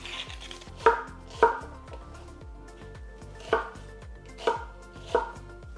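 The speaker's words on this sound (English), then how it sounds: "take 1 small brown onion or a shallot, top and tail it, peel it, cut it in half and roughly chop it" Knife chopping a peeled, halved small brown onion on a cutting board: a handful of sharp, separate knocks spaced unevenly, close and clear, with no talking.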